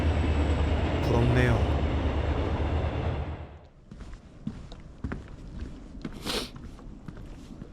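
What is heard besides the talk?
passing train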